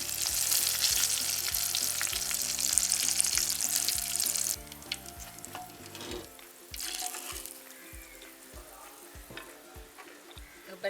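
Drumsticks (murungakkai) frying in hot oil for a Jaffna-style curry, with a bright steady sizzle under stirring and clinking for several seconds that then drops to quieter, sparser crackling.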